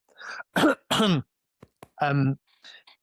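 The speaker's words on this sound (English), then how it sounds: "Sorry, I need to cough." A person in a London West End theatre interview gives a few sharp coughs and throat clears in quick bursts, close and fairly loud, separated by short pauses.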